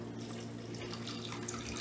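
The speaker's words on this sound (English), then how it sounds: "I'm gonna pour the half a cup of hot water in here." Half a cup of warm water is poured into a bowl for a Jello marshmallow roll recipe, giving a steady close splashing stream that runs without a break.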